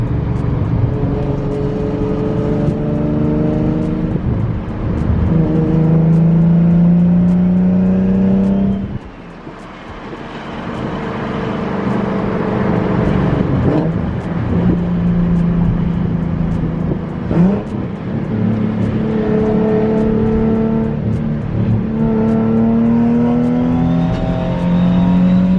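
A BMW M340i engine revs and drops repeatedly with a possible exhaust leak, a loud close rising-and-falling drone with a brief dip in the middle.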